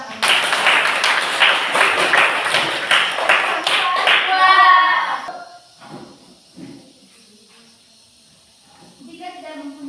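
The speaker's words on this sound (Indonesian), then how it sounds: "Mari kita tepuk tangan." A classroom of students claps hands together for several seconds, a dense, steady burst of applause that stops abruptly, followed by quieter room sounds and scattered speech.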